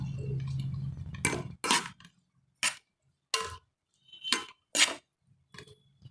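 Tomatoes fried for a spicy dry fish gravy, stirred in a pan with a metal spoon: a handful of sharp, separate scrapes and clinks with quiet pauses between them, close by, with no talk.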